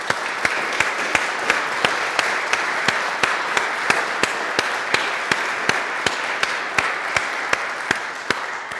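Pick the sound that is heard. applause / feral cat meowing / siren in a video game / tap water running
applause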